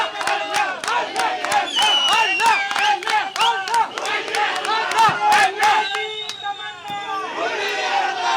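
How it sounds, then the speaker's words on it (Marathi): Supporters of Muralidhar Mohol celebrate in Pune: a dense crowd shouts and chants loudly, with sharp bursts of clapping and scattered cheers over a steady roar of voices. "जल्लोष साजरा केला जातोय मुरलीधर मोहोळ यांच्या समर्थकांकडून"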